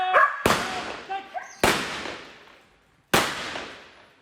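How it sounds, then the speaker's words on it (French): Three sharp pistol shots ring out during a police dog training exercise, each loud crack trailing off in a long echo, spaced about a second and a half apart, with a dog barking briefly before the first. "On utilisait là sur cet exercice le pistolet pour renforcer la chienne et l'habituer aux détonations"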